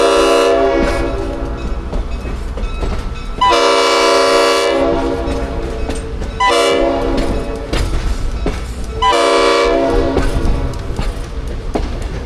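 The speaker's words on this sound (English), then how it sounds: "I was enamored with 620's air horn" The air horn of Norfolk & Western locomotive 620 sounds in several long, loud blasts, heard from a caboose. Wheels rumble and clack along the rails between the blasts.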